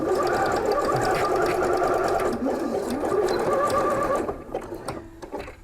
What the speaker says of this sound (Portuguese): eu passo novamente a costura.